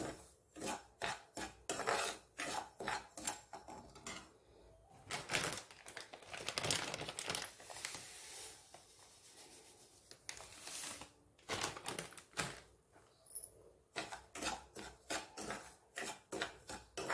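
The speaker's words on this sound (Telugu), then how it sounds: "చక్కగా అటు ఇటు తిప్పుకుంటూ ఒక 2 మినిట్స్ దీన్ని వేడి చేస్తే సరిపోతుంది" Semolina (rava) roasting in a pan is stirred back and forth, giving quiet rhythmic scraping and gritty rasping strokes in bursts with brief pauses, close and soft.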